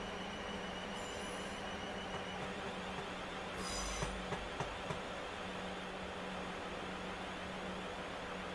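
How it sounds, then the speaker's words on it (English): Train slowing to a stop at a station in the Train Simulator video game: a steady low rumble of rolling wagons with a brief squeal of wheels and a few clunks midway, close and fairly quiet throughout. "Now we just have to slow down the train and make sure we're over that track point"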